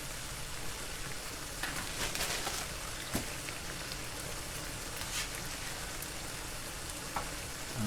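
Tofu frying in a pan of udon stir fry with Chinese broccoli and matsutake mushrooms, a steady soft sizzle and crackle with a few sharper spits, fairly quiet and unbroken.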